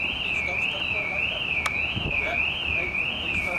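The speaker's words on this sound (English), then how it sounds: "Just when you don't want a car alarm to go off" A car alarm wails near a ferry terminal on the Isle of Man, with a steady rising-and-falling electronic siren that keeps cycling throughout. Faint background chatter and street noise sit under it.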